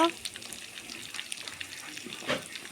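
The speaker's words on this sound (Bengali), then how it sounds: "এগুলো হালকা ভাজে নিব" Pumpkin pieces fry lightly in a pan with a soft, close sizzle and scattered crackles, plus a brief stirring scrape near the end.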